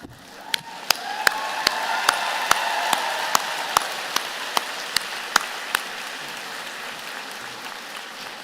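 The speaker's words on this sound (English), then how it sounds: "Given the applause" Applause from a convocation audience at a spring medical faculty graduation, honouring the final graduate called to the stage; a steady wash of clapping fills the hall with a few sharper claps standing out.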